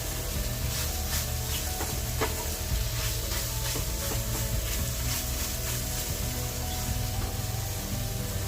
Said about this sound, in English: Stir them around.